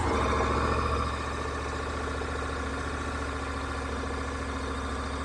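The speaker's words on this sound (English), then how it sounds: "So what does the bike sound like?" A 2023 Honda NC750 DCT motorcycle engine runs at a steady low idle, a smooth muted thrum heard close, a little louder for the first second before it settles, with no voices.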